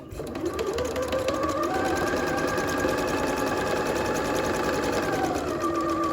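A sewing machine stitches elastic into a skirt waistband, running at a steady, close, continuous whir with a fast mechanical rhythm throughout, and no talking.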